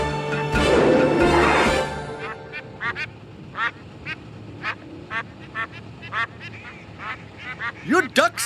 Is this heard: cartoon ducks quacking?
yes